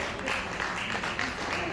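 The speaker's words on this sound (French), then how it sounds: "Est-ce qu'on peut applaudir encore une fois?" Audience applause at a sports trophy ceremony, a dense crowd clapping continuously at moderate loudness, with voices mixed in beneath.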